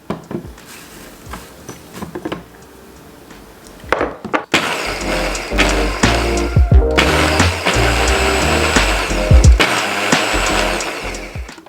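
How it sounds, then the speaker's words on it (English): A kitchen grinder whirs loudly as it pulverizes oatmeal for banana oatmeal pancakes, starting after a few clicks and running in a steady, harsh roar with brief pauses and pulses. "So first off guys, we're gonna ground our oatmeal"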